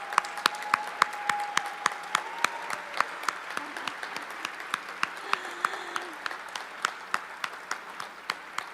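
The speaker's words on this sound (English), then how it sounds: "so we can give you a round of applause" An audience at a benefit event gives the staff a round of applause, a thin patter of scattered claps with a few sharp, close claps standing out, carrying on steadily with faint tones in the background.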